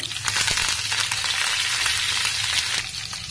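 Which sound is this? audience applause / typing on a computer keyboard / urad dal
urad dal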